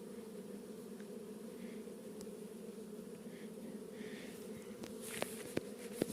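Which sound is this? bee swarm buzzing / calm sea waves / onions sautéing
bee swarm buzzing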